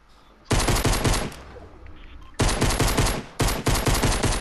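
Rapid automatic gunfire in the video game Fortnite, loud and close: a burst of about two seconds, a short gap, then two more sustained bursts of quick rattling shots.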